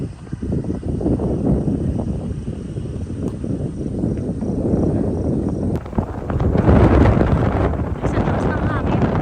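Strong wind buffets the microphone in steady low roaring gusts, growing heavier toward the end.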